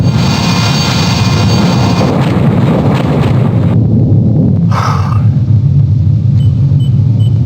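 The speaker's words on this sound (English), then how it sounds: "Torpedo self-destruct, sir." Torpedo self-destruct explosion in the 1995 submarine video game Silent Steel, a loud, heavy underwater rumble that holds steady for several seconds, then drops into a deeper, duller roar with a short muffled burst near the end.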